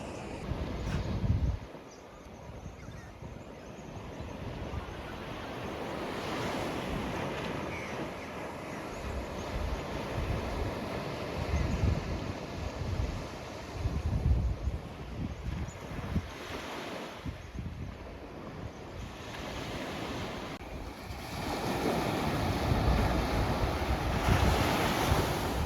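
Ocean surf breaking on the beach at Port Elliot on the Fleurieu Peninsula, a continuous roar of waves with repeated surges and washes, plus gusty wind buffeting the microphone.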